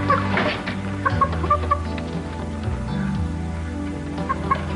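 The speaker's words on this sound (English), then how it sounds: "why is there a chicken in your living room?" A chicken clucks indoors in a living room, short faint clucks sitting under a steady hum of background music.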